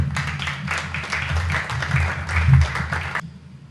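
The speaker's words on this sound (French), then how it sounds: "que je vous demande d'applaudir, s'il vous plaît" Audience applause at a formal ceremony, a dense wash of clapping that swells and holds steady for about three seconds before cutting off abruptly.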